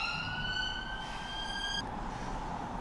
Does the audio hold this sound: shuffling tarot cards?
no